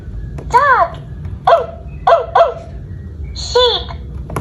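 A children's educational toy computer sounds a recorded dog barking, a run of sharp yips and barks in uneven spacing across several seconds, near and clear, with no voices over it.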